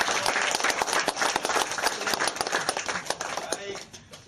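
An audience at a debate between candidates for chair of the KNPI in Papua province claps loudly and quickly in a dense burst that fades slightly toward the end, with a voice faintly present under the clapping.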